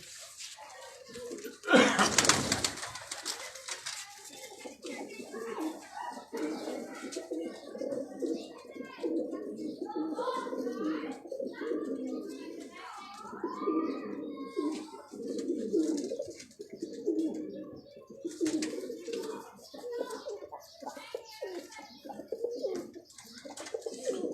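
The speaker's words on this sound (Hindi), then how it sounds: "ये कोई बहुत बड़े साइज़ों के वो कबूतर नहीं है जो आजकल लोग वो लेके फिर रहे।" Pigeons of a slender-faced breed coo in soft, repeated throaty phrases, fairly close and steady throughout, with a brief burst of noise near the start and someone talking at times.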